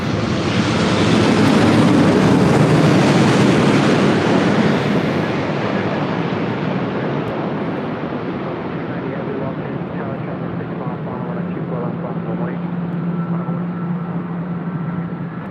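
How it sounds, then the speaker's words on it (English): A Hawaiian Airlines jet roars down runway 24 left at LAX on takeoff, a loud broad rumble that swells early then slowly fades into distant engine drone, with wind buffeting the microphone. "Short funnel for 24 left as Hawaiian takes off"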